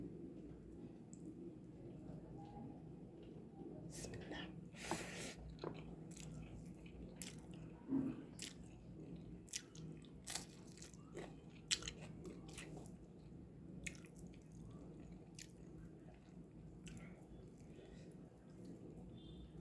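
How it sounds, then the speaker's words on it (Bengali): Close, quiet chewing and squishy bites of bottle gourd curry at lunch, irregular soft crunches and mouth sounds spread across the stretch, with a voice speaking faintly at times. "আমি প্রথমে লাউ বাজিটা দিয়ে একটু শুরু করি"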